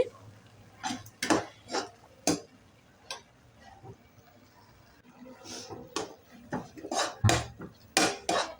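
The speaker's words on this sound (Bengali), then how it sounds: "এটাকে ভালো করে একটু নাড়াচাড়া করে নিচ্ছি" Chilli soya chunks stirred with Kashmiri chilli powder in a pan, heard as irregular sharp spoon clinks and scrapes against metal, close and distinct over a quiet background.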